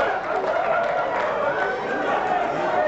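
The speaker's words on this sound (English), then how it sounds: "As you can imagine, this is a New York crowd." A dense New York crowd chatters and murmurs continuously at the 1985 NBA draft at the Waldorf Astoria, a busy, close wash of many voices with no single speaker standing out.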